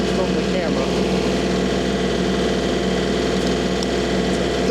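A vehicle engine held at high revs, a loud steady drone with a constant mechanical hum and no breaks, while a person talks over it.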